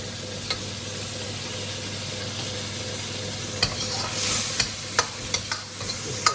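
Lamb pieces stir-fried in a wok with dark and light soy sauce, a continuous sizzle and frying hiss with scraping stirs and sharp clicks of a utensil against the pan near the end.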